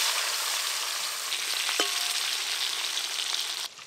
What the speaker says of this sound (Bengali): এই মাছ একটু ভালো করে কোড়া করেই ভাজতে হয়